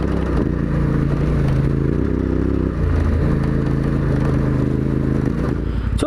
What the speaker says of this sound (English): It takes just a second after I twist the throttle in order for it to kick in and then be ready to rip.